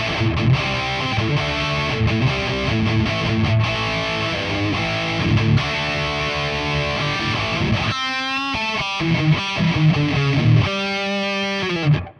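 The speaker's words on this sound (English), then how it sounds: "Hear that reverb?" Heavily distorted electric guitar through a Valeton GP-5 processor with a Soldano-style amp tone plays sustained chords and riffs with a wash of reverb, loud and continuous, then rings out at the end.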